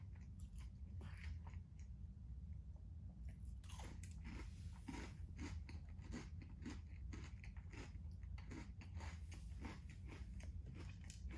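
Close, crisp crunching as someone bites and chews a Nature Valley chocolate crunchy dipper bar, with sharp bites repeating irregularly throughout and no talking.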